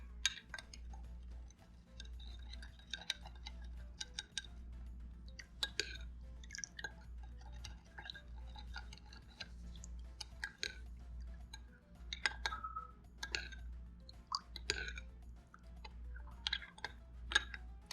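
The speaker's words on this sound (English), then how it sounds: "combine everything and mix it" Satay vegetable ingredients being combined in a bowl, heard as quiet, irregular wet mixing and soft clinks of a utensil against the bowl, close and sparse over a low steady background hum.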